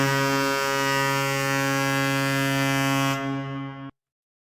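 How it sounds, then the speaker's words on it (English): The 1991 Quebec hockey goal horn sounds as one steady, loud, deep blast that holds for several seconds, then tapers and cuts off abruptly. "But this is that horn that's Quebec 91 on Goalhorn Hub."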